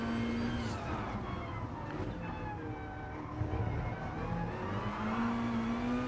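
A BMW race car in Gran Turismo Sport at Le Mans, its engine holding a steady mid-pitched drone with slowly shifting tone, quiet and continuous.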